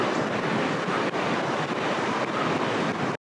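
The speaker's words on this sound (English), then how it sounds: "The wave is actually coming up all the way up that river." Ocean waves surging up a river roar as a steady, dense wash of surf mixed with wind buffeting, continuous and close, with no voices.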